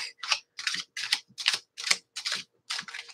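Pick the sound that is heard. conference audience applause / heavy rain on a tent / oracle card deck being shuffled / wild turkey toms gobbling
oracle card deck being shuffled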